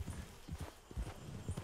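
Horse hooves clip-clop in the Red Dead Redemption 2 video game, a quick, steady rhythm of soft, close thuds at walking or trotting pace.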